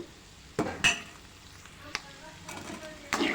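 A spoon stirs goat blood curry with masala in a pan, giving several distinct scraping clinks against the metal over a low sizzle. The strokes are irregular and close.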